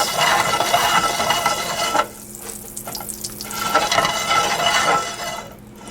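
Butter foaming and sizzling in a pan before eggs go in for a mushroom omelette: a steady, close hiss and crackle that thins briefly, then returns at full strength.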